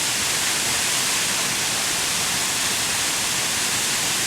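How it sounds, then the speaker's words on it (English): Benlister Falls on the Isle of Arran pours in a constant broad hiss of rushing water, steady and enveloping with no breaks or voices. "This is a secret waterfall."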